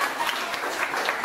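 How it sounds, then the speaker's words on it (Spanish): A group claps during a Christmas gathering at an orphanage in Yarinacocha, a brief burst of dense, steady applause filling the room. "Un fuerte aplauso por ella."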